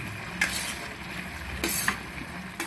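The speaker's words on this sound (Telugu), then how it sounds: "ఇప్పుడు మష్రూమ్ అయితే బాగా మగ్గిపోయాయి. దానిలో టమాటో వేసుకుంటాం." Mushrooms and tomato fry in a pan for a curry, a steady close sizzle with a few scraping stirs from a spoon.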